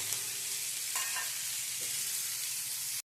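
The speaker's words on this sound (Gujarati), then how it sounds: "જો લસણની કરી પણ ફ્રાય થઈ ગઈ છે" Garlic and tomatoes fry in a pan for a bottle gourd peel chutney, giving a steady, close sizzle with a few soft stirring scrapes and no talking.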